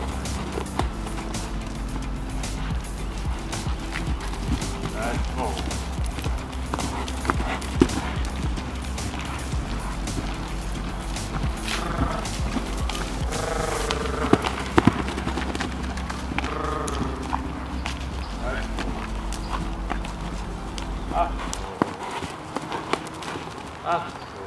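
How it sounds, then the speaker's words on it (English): Dressage horse trotting under saddle, with steady rhythmic hoofbeats throughout and a voice heard at times, before the hoofbeats stop near the end. "I'll just go back to trot and get it again."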